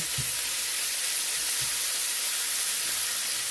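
A steak sears on its second side in a hot pan, giving a loud, steady, close sizzle and hiss throughout, with a couple of soft low knocks near the start.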